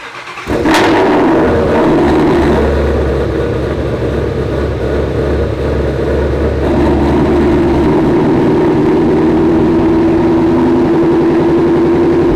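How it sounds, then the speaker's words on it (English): A Shelby GT350 engine cranks and fires into a loud, steady idle with a deep rumble on a cold start, holding at a high warm-up idle before settling slightly lower. "now moment of truth. Let's get a cold start."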